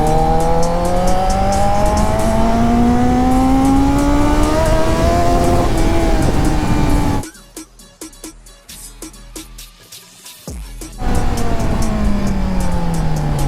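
A Kawasaki Z900 motorcycle engine revs loudly and up close, its pitch climbing and falling in sustained pulls. The tone breaks into a rough, choppy patch partway through, then the revving returns.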